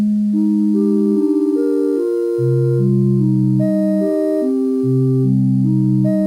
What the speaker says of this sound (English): What you're hearing is this synth progression that I created